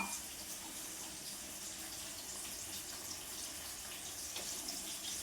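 Water pours into a pot of coconut curry made with fresh grated coconut, a soft continuous splashing stream heard close but faint, steady throughout with no talking.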